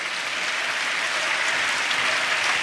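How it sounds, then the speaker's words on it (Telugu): A church congregation at Emmanuel Ministries Hyderabad claps hands in praise to Jesus, an even, continuous patter of many hands at a steady level with no talk over it. "తెచ్చుకున్న వాళ్ళందరూ 2 చేతులు ఎత్తి చప్పట్లు కొడతా యేసయ్యకు స్తోత్రాలు చెప్దాం"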